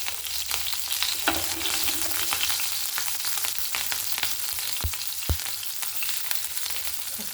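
Sliced onions fry in a very hot pan for a sardine roast, giving a steady, close sizzle with scraping stirs and a couple of sharper knocks near the end, and no talking.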